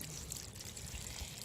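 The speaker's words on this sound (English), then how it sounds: "Okay, so you just pour your water in," Water pours onto seed starter pellets for planting tomato and cucumber seeds, a quiet, steady trickling stream with no voices.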